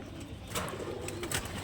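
Pigeons at a bird sale coo softly in the background, a few low murmuring coos over a steady noisy market hum, with brief higher chirps and rustles.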